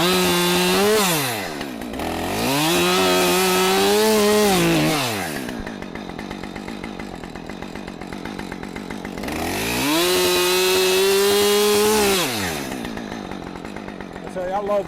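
A Husqvarna 550 XP chainsaw cuts into a hollow hickory tree, engine revving hard in two long loud bursts with a slower idling stretch between them, close by.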